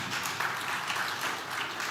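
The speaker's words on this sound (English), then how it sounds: "As you're clapping" An audience claps steadily throughout, a dense wash of applause from a crowd at a talk event, with no voices heard.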